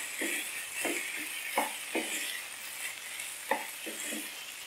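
Keema mince mixture is stirred in a pan over a soft background sizzle, with several scattered scrapes of the spoon at moderate loudness and no talk.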